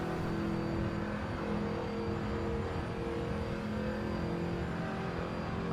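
An HQ Holden race car drones steadily around the Thunderdome oval, a constant close engine hum with a smooth, unbroken tone and no voices.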